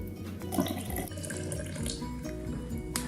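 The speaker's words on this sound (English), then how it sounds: "now we're going to add 100 milligrams of milk." Milk pouring steadily into crepe batter in a kitchen, a continuous liquid splash and trickle close to the microphone with no talking.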